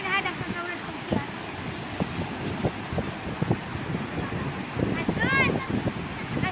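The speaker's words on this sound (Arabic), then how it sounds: "وصلنا البحر." Sea waves wash against the shore at Gaza beach under steady, buffeting wind noise on the microphone, with faint voices nearby.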